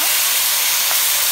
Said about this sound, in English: I'm gonna add my prawns along with my ingredients that I told you earlier.